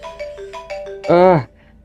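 A phone rings in the Vicious horror video game: a short run of bright electronic ringtone tones, then a louder buzzing burst, all close and clear before dropping to silence.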